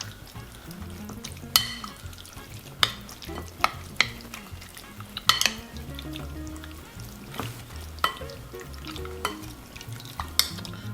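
Pork being mixed by hand in a marinade with a little sugar, giving soft wet squelching and stirring sounds with occasional sharper clicks of utensil against the bowl, close and steady, with no talking.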